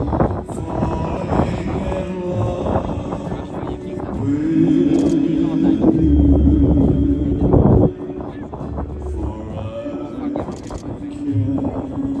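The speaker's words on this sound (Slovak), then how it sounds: "máme tu plné pristátie, vidíte vysunutý podvozok, lietadla Beechcraft" A Beechcraft airplane lands with its gear extended at an airshow, its engine a steady droning rumble that swells midway and then eases, heard under continuous talk from a commentator.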